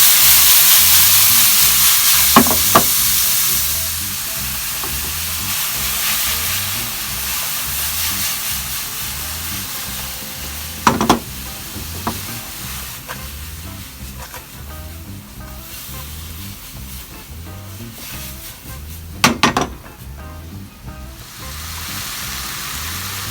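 Bean sprouts sizzle in a hot pan over medium heat for Vietnamese fried egg noodles, a steady close frying hiss broken by a few sharp utensil clatters.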